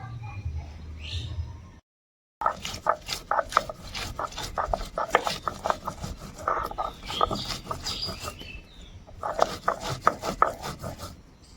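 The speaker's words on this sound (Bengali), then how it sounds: "এবার কাঁচা লঙ্কাটা বেটে নেব, আর কাঁচা লঙ্কাটা একদম মিহি করে বাটবো না" Green chillies being coarsely crushed on a stone grinding slab, a steady run of close, rhythmic rasping scrapes with a brief pause near the start.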